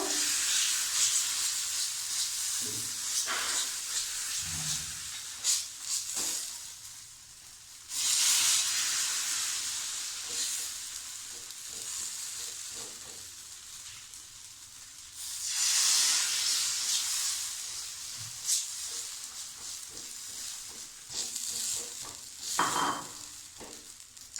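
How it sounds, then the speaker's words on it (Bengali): Semolina batter for a savory pitha sizzles and hisses steadily in a hot pan while a spoon spreads it, with repeated scraping strokes and bursts of louder steaming sizzle close up. "এবার দিয়ে দিচ্ছি সুজি ভালো করে চামচে করে এইভাবে দিয়ে বড় করে নেবো"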